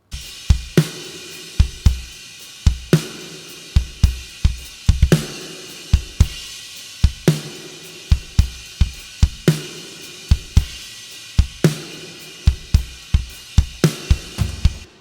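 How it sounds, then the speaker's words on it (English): A drum kit plays a steady groove of sharp kick and snare hits through a Behringer mixer's basic reverb, each hit followed by a short reverberant tail. "our normal drums sound like this. This is with our basic normal reverb"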